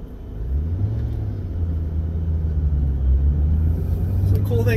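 A 2005 Ford GT supercar's engine rumbles steadily while driving, a low continuous drone that swells slightly toward the end, with faint traffic-like whir on top.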